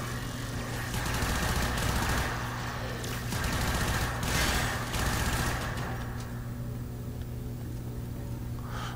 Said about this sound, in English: I love the fact that with this Soma I can just shoot for days